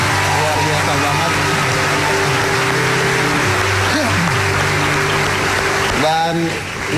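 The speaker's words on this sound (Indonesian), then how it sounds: "Kita berikan tepuk tangan dulu buat semua yang ada di sini." A studio audience at a university campus (Untar) applauds continuously, a loud, steady wash of clapping filling the whole stretch with some voices and music mixed in beneath.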